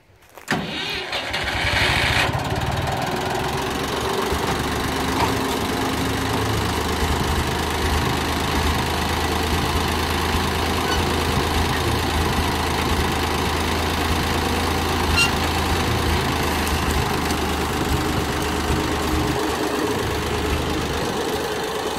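A tractor engine starts and settles into a steady, loud idle, its low rumble running unbroken and close throughout with no talk over it.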